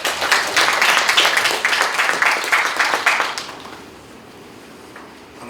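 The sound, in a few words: audience applause welcoming speaker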